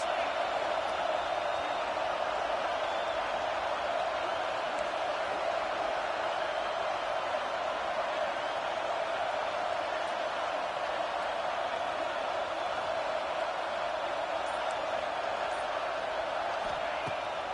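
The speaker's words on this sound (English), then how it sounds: "this crowd is making it miserable on this offense" A stadium crowd in the College Football 26 video game keeps up a steady, constant roar on a fourth down during a Gamecocks game, unchanging and unbroken throughout.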